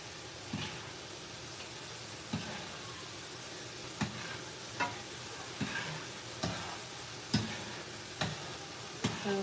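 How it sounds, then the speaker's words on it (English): Potatoes fry in a hot pan with a continuous crackling sizzle, broken by a regular series of sharp scrapes and taps from a utensil stirring them, heard up close. "The potatoes are cooking pretty fast."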